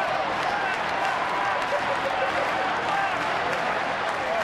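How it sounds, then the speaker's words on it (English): Sold-out crowd cheering and clapping at PNC Park during a Tigers at Pirates baseball game, a steady roaring wash of applause with chants echoing around the stadium, a commentator talking over it. "that long ball has re-energized the sold-out crowd this afternoon"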